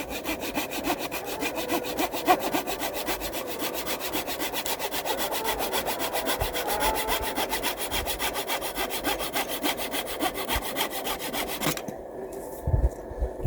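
Rhythmic back-and-forth rasping of a thin, flexible hand saw cutting wood, fast even strokes continuing for about twelve seconds before stopping, followed by a couple of faint knocks.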